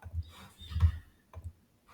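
Soft, close computer mouse clicks come alone in a quiet room, a few isolated taps spread across the moment with short pauses between them.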